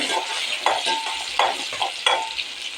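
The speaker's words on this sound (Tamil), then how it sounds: "பச்சை மிளகா போட்டுக்கலாம் கருவேப்பிலை போட்டுக்கலாம் மணக்கி வச்சுட்டு" Green chillies and curry leaves frying in hot oil for a fish egg stir-fry, a steady close sizzle with a few louder crackling bursts as they are stirred, with no talking.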